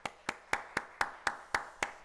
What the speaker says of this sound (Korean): 우리 박수로 축복하도록 하겠습니다.